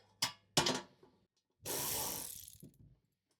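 A wrench clicks in quick ratcheting bursts loosening a bolt on a homemade car wheel dolly, close and crisp, followed by a longer hissing scrape and a few quiet knocks.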